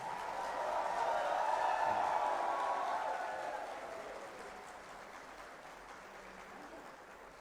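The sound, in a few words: audience applause in a conference hall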